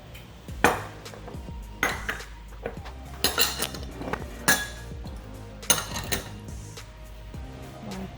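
Eggs being cracked and dropped into a bowl while making homemade manicotti crepes, a series of clinks, taps and knocks against the bowl in uneven bursts, close and clear.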